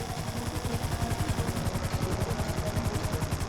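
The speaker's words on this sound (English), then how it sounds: "Hover above it while I record what we need. Just hold the chopper here." Helicopter hovering in GTA V, a steady rhythmic rotor thump with a constant engine drone, moderately loud and unbroken from start to finish.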